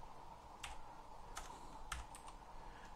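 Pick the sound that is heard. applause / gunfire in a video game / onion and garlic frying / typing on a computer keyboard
typing on a computer keyboard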